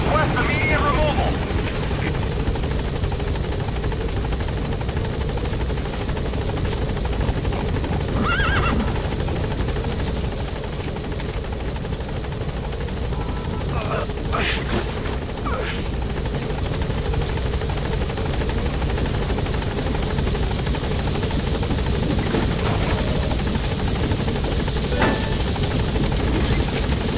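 In Metal Gear Solid 5, the Pequod helicopter hovers over a blocked landing zone with a steady, loud rotor drone throughout, while a horse whinnies a few times over it.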